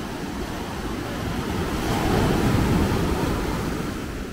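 Strong surf rolls in off the dark sea near Nusa Penida, Bali, a loud, continuous wash of churning water and wind that swells toward the middle and stays steady without any voices.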